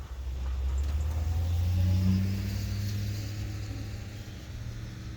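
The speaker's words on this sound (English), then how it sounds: "If the UPS truck doesn't hit me first." A UPS delivery truck drives past on a residential street on a sunny day, its low engine rumble swelling as it nears and then fading away.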